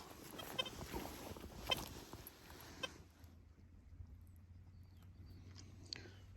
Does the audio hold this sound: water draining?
no